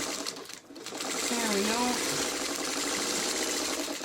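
A sewing machine stitching a pieced quilt block runs in a steady, fast whirring hum after a brief pause, with a person speaking briefly at the start.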